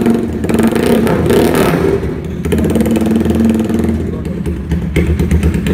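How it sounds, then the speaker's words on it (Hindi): A BMW S1000RR replica heavy bike engine revs up and settles back to a steady idle, loud and close, while someone talks over it. "अभी आपको इसका इंजन साउंड चेक करवाते हैं।"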